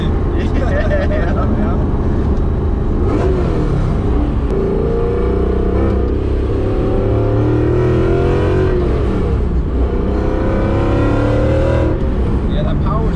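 A supercharged 1994 BMW M8 E31 with a swapped M5 V8 and loud exhaust heard from inside the car, its engine droning and climbing in pitch through several pulls while occasional voices talk over it.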